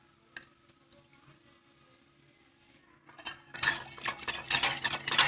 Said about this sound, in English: Now mix it really well.